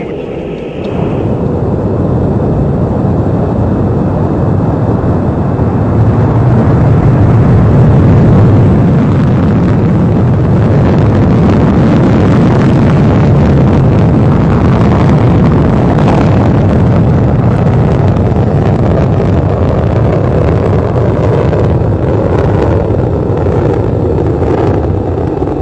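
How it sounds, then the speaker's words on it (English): A Soyuz MS-9 rocket launch: the engines build into a massive, continuous roar that rumbles loud and unbroken for about twenty-five seconds. "Just spectacular, the launch of Soyuz MS-9"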